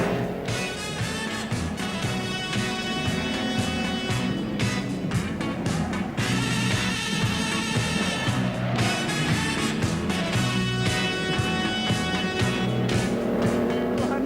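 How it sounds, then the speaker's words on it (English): 1960s Formula One race cars at the Monaco Grand Prix, engines roaring continuously and loudly with changing pitch as cars pass, tires squealing at times, dense and sustained throughout. "Bruce McLaren wins the 20th Monte Carlo Grand Prix from Phil Hill by"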